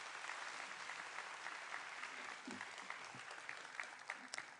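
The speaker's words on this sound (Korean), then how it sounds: "우리 박수로 맞이하시겠습니다." A church congregation at a revival service applauds to welcome the pastor, a steady wash of many hands clapping throughout, fairly faint and distant in a large room, with a few louder individual claps near the end.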